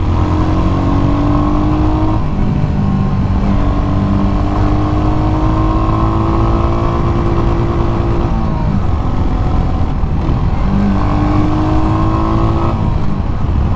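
A 2023 Royal Enfield Hunter 350 motorcycle engine drones loudly and steadily while riding, its pitch rising and falling with throttle changes throughout, with no talking.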